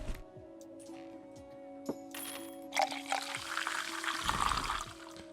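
A drink being poured at the tavern bar in Tavern Manager Simulator, with a splashing liquid stream building over a steady electronic game hum, after a few small clinks and knocks.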